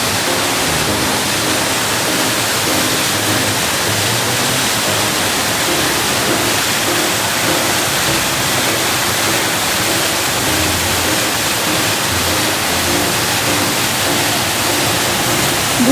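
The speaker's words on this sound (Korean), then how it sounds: "폭포에 저 거센 물줄기 덕분에 시원한 바람이 불어서" Rushing water roars in a steady, dense wash of noise with no breaks, loud and close, from a powerful waterfall at Seoraksan.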